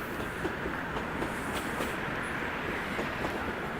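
A train rolls past nearby on a Toronto evening, a steady loud rumble of wheels on rails with faint rhythmic clatter throughout, no voices.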